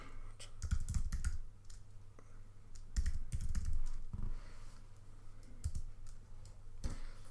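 A computer keyboard is typed on in quick bursts of close, crisp key clicks, with short pauses between the runs of keystrokes and no talking.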